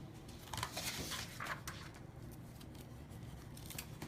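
Red quilt fabric is cut into a 1.5-inch strip for a sampler quilt block, giving faint, close cutting and snipping sounds with light handling noise in a quiet room.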